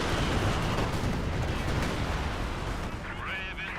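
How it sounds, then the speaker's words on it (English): A Panzerwerfer rocket artillery barrage in Company of Heroes 2, a dense roaring wash of explosions and blasts that keeps on without a break, with a voice talking over it toward the end. "Panzerwerfer barrage running on in"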